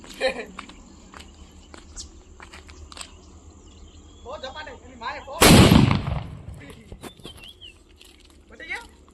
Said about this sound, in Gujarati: રાજી ભાઈ હવે ફોડસી સિંદરી બોમ્બ